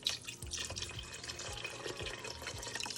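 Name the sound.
broth being poured into turkey soup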